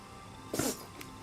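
A single short sneeze bursts out near the middle of a quiet stretch in The Oregon Trail 2022 game, followed by a faint little sniff, with no one talking.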